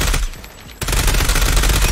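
The Switchblade-X9 gun in a video game fires a dense, rapid stream of shots, brief at first and then continuous and loud, with no voices over it.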